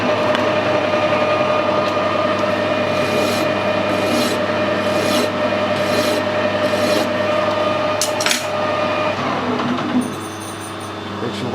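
A hand file rasps a chamfer onto the end of a metal rod, giving a steady run of rhythmic strokes, close and fairly loud, for roughly ten seconds before easing off.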